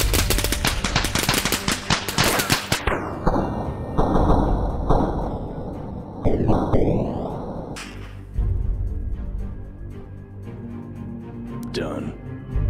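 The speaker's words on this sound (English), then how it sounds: "Suppressing fire!" Rapid automatic gunfire rattles in bursts during a Breach & Clear firefight in a Turkish bazaar, loud and close, with shouted squad callouts over the shots and ringing, whooshing effects in between.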